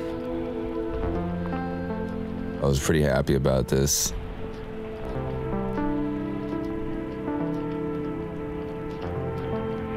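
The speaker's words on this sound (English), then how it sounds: "And then the rain comes down." Steady rain falls throughout, a dense hiss and patter on surfaces nearby, with someone speaking briefly over it partway through.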